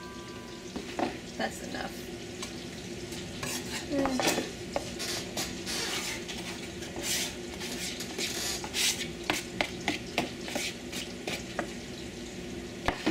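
Flour and oil being stirred into a paste in a pan for gar boulettes: continuous scraping and clinking of a utensil against the pan over a soft sizzle, with brief talk near the start.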